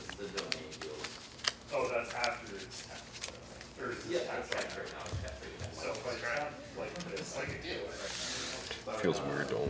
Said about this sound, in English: Feels weird to only shuffle 40 cards.